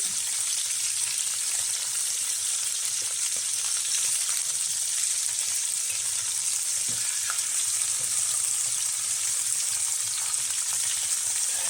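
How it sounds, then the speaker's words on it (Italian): Meat for ribs and sausage sauce browns in a pan, giving a steady, loud, continuous sizzle with faint occasional stirring clicks close by and no talk. "ho messo la carne, adesso la vado a rosolare su tutti quanti i lati"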